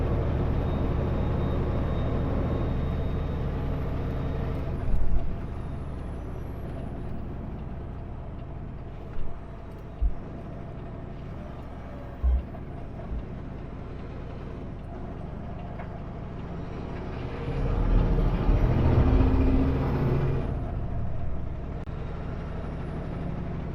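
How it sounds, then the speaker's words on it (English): Road traffic on the highway at Snoqualmie Pass rushes past in a steady broad roar, with a louder whoosh swelling near the end and a few brief knocks along the way. "Another whoosh of traffic coming out of nowhere."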